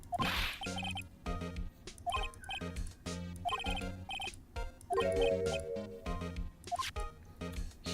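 Old-style telephone ringing in the Phoenix Wright Ace Attorney video game, a series of repeated bright electronic ring bursts with short gaps between them, fairly close and clear throughout.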